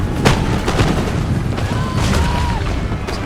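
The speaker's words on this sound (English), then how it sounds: "Nice raw artillery barrage there." Artillery fire in the Empire Total War battle between America and Britain, with repeated booming shots and rumbling impacts over continuous battlefield din and a faint whistling projectile.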